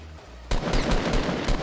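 Gunfire from Fortnite erupts suddenly after a quiet moment into a loud, fast stream of rapid shots, dense and continuous like automatic fire, with no talk over it.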